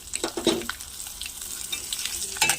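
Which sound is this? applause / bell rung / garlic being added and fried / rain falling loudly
garlic being added and fried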